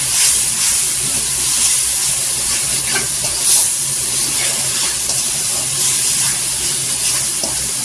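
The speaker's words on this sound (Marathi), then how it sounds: "हे सुके मसाला आहे तेलावर छान परतायचं" Dry masala spices, including Kitchen King masala, Kashmiri red chilli powder and Agri masala, frying in oil for a dhaba-style egg masala curry, giving a steady, loud hiss with no one speaking.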